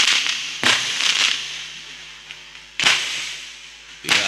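Firecrackers burst outside during a sermon in Kampung Pulo Gintung, three sharp loud cracks spaced a couple of seconds apart, each followed by crackling and a rumbling tail.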